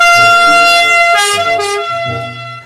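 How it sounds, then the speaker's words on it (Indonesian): A toy ambulance siren plays loud and close, a steady electronic two-tone wail with harmonic tones lasting a couple of seconds, alone without talk. "Ini ada mobil ambulan."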